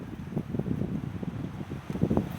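Strong wind blows outdoors in a cold spell, making a steady, buffeting low rumble across the microphone with gusts rising and falling. No voices are heard.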